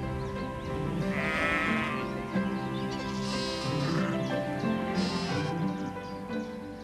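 Sheep grazing dry grassland pastures in the Haute-Meuse, bleating repeatedly in overlapping calls from several animals at moderate distance, loud and steady throughout with no talk.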